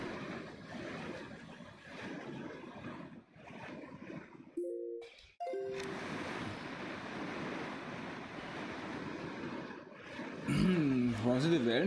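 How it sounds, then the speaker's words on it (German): Ocean waves wash and roll in The Legend of Zelda: The Wind Waker, a continuous surf-like rush with wind that briefly drops out, then swells again with game tones near the end. "Warum sind die Wellen jetzt so hoch?"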